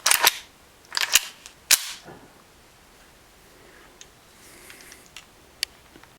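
A Spencer rifle's action is worked by hand while cycling dummy cartridges, giving a few sharp metallic clacks in the first two seconds followed by faint scattered ticks, close and with no talking.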